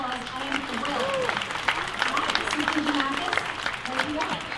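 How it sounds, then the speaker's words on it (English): Parents and guests at an elementary school concert clap for themselves, a moderate, somewhat thin applause with crowd chatter and voices mixed through it. "Please give yourselves a round of applause."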